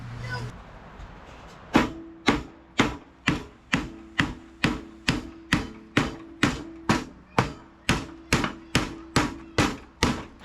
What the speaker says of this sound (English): So a little banging with the hammer